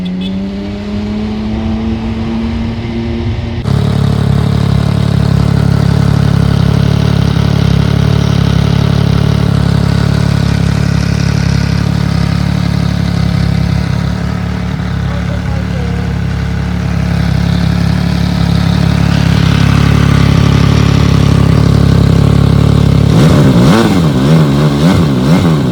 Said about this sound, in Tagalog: Kung naririnig nyo, yun yung pinakabit natin,